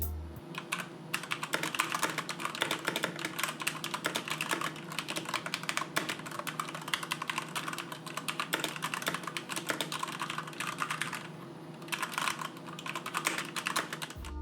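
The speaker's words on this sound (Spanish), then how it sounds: "el test de sonido de los switches Cherry MX Red, que desde ya les adelantamos que son bastante silenciosos" Steady, fast typing on an ASUS ROG Claymore Core mechanical keyboard with Cherry MX Red switches, a dense run of soft clicks and key bottoming that continues close and alone with brief pauses.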